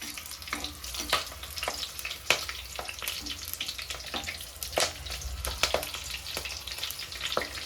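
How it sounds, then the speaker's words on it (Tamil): Green chillies crackle and spit in hot oil for a fish curry, a steady close sizzle punctuated by sharp irregular pops throughout, with no voices. "அதை சேர்த்தாச்சு. தெரிக்கும், மேலே படப்படன்னு கொஞ்சம் தூரமாகவே நின்றுக்கோங்க"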